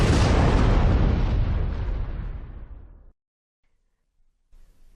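A massive explosion in the video game Shackled booms loud and deep at once, then rumbles and fades over about three seconds into near silence.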